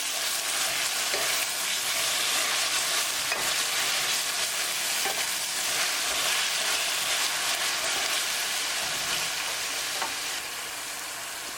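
Mushrooms and French beans are stirred in a sizzling pan, a steady frying hiss broken by repeated scraping strokes of a utensil, close and unaccompanied by speech.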